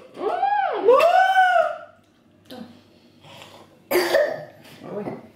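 A person coughs in a home, a loud, strained cough with a rising, whooping pitch, then a few fainter coughs and throat noises after a brief pause.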